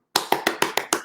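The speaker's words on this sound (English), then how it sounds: "Clap it up." Six sharp, evenly spaced hand claps ring out close and loud at a live poetry collective reading, each followed by a quick decay, with no other sound between them.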